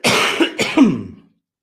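A person coughs and clears their throat up close, a few harsh rasping bursts in quick succession before it falls silent.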